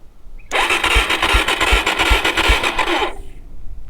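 A DRZ400E motorcycle engine starts abruptly and runs for about two and a half seconds, pulsing rhythmically with a breathy intake rasp or sucking noise, then cuts off.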